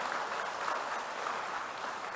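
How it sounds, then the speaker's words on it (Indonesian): A church congregation applauds to welcome first-time visitors, a steady, even wash of many hands clapping that stays level from start to finish, heard at a middle distance with no voices over it. "kita sambut dengan tepuk tangan"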